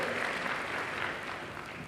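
Applause from a church congregation during a sermon, a steady broad wash of clapping that holds moderately loud throughout and eases slightly near the end, with a brief thump just before it stops.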